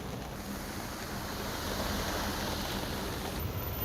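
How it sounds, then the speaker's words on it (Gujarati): Rainwater rushing across roads in Palanpur, Banaskantha after over four inches of heavy rain, heard as a dense, continuous wash of flowing water with wind buffeting the microphone. "જ્યાં રોડ રસ્તા ઉપર પાણી વહેતા થયા છે"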